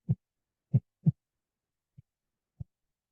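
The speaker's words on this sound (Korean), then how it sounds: "심장 박동 소리 들렸어요" A heartbeat heard closely: three soft, low thumps in quick succession followed by two fainter beats, isolated against silence.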